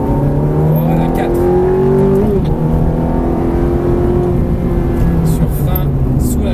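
A Ferrari F430 pulls hard on a race track at Croix-en-Ternois, its engine note rising and shifting through gears, loud and continuous, while an instructor's voice talks over it.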